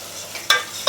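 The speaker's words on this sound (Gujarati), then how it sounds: "તો બરોબરનું હવે મિક્સ કરી લેશે બા." A pan of green onion curry with tomatoes is stirred, giving a short scrape and a soft sizzle with two quick spoon strokes within under a second.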